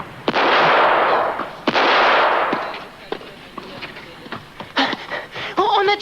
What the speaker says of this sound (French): On a tiré sur quelqu'un.